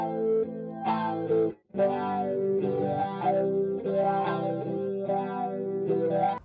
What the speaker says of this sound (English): here's an auto wah that's doing that automatically for me